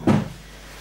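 A single short wooden knock of a drawer sliding shut after a makeup palette is put away, close by and quick, followed by quiet room tone.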